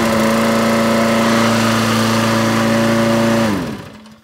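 Lawnmower engine running steady and loud, with a strong harmonic drone held for about three and a half seconds before it winds down and cuts out, leaving a brief quiet tail.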